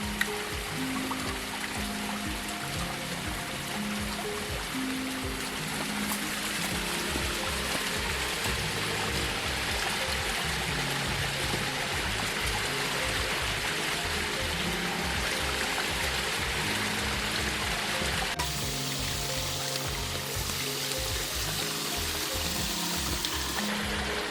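Water pours and splashes steadily from a tap as fish is rinsed in an outdoor village kitchen, a continuous close gush with shifting splatter as hands move the fish under the stream.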